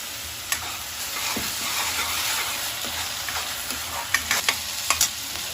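Onions, ginger, green chilli and tomato puree fry in a pan with a steady, dense sizzle, broken by the scrape of a stirring spoon and a few sharp clinks of utensil on metal toward the end; no one speaks.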